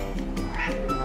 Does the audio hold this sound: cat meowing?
yes